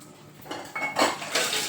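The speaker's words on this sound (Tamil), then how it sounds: "இப்போ என்ன பண்ண போகிறோன்னு பார்த்தீங்கன்னா நம்ம பாத்திரம் கழுவ போகிறோம்" Metal dishes and utensils clink and clatter in a few close, uneven bursts, like pots being handled during washing.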